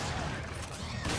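Rapid gunfire from the video game Resident Evil 5 in a dense, loud burst of shots lasting about a second, with no pause between them.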